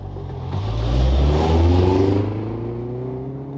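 A family car's engine starts up and revs, swelling to a loud, steady whir for a couple of seconds before easing back to a sustained hum, with no voices over it.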